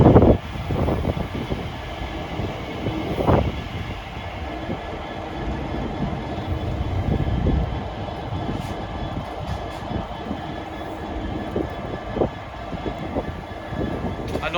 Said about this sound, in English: arriving in now is another class 345. This is 345026.